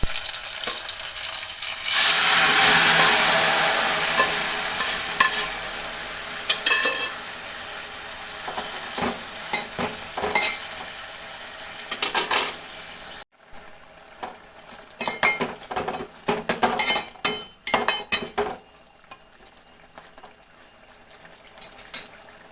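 Cooked chicken with curry leaves, seasoned with black pepper, is stirred in a pan to dry off its water. The loud frying sizzle is joined by a spoon scraping and clinking against the pan, and it fades to quieter intermittent stirring.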